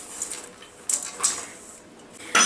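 Spoon or whisk mixing whole wheat flour, salt, spices and dried fruits in a bowl for eggless fruit bread, giving soft scraping with a few sharp clinks against the bowl, close and without talk.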